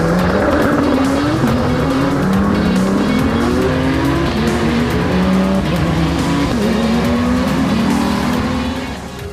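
Race cars at Magny-Cours on the formation lap, engines loud and close with steady revving, rising and falling pitch sweeps as cars pass, and occasional tire squeal, fading slightly at the very end.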